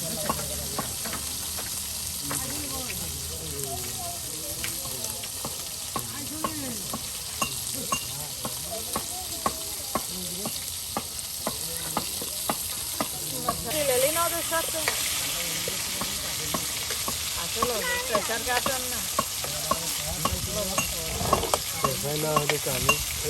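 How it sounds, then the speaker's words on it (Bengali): Potatoes frying in a pan, a dense steady sizzle with repeated stirring scrapes and clicks of a utensil, close and continuous for over twenty seconds, getting a little louder partway through, with no voices. "এই যে আলু আপনার ভেজে নেওয়া হবে"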